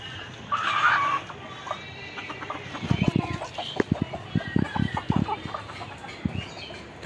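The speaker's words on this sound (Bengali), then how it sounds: "মুরগিগুলো খুব সুন্দর খাচ্ছে" Desi chickens cluck and peck while eating a feed mix of soaked bread and rice bran, with scattered short calls and pecking taps close by, denser in the second half.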